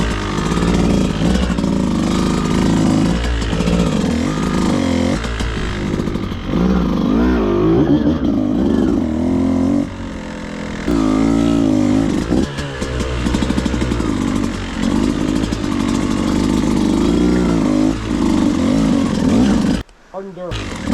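Beta 200RR two-stroke dirt bike engine revving hard and loud as it climbs rock beside a waterfall, the note rising and falling through repeated bursts with clutch pops, continuous for most of the run before briefly cutting out near the end.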